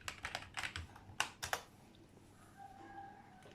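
Several quick bursts of keystrokes on a computer keyboard as a user password is typed during a Zorin OS 15 installation on a PC, clustered clicks up front and then fading to quiet room tone.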